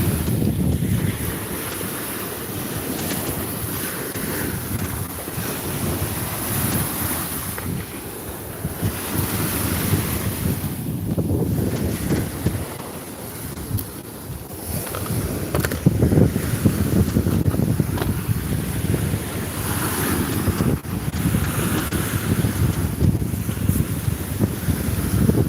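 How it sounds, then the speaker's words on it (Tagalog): Strong wind buffets the microphone over surging waves and the low hum of a boat, a rough, continuous roar with gusty swells. "Lakas ng alon."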